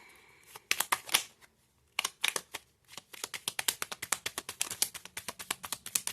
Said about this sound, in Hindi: नो, मेरे को फिर से शफल करना है।